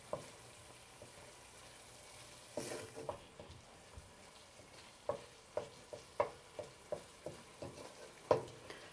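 Meat fries gently in a pan for Ethiopian pasta over lowered heat: a faint, quiet sizzle under a string of sharp spoon taps and scrapes against the pan, growing more frequent toward the end.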